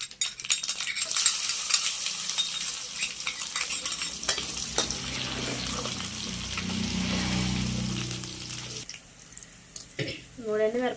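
Crushed garlic sizzling in hot tempering oil for a drumstick pickle, a steady bright frying hiss with stirring scrapes, fading near the end as a voice speaks.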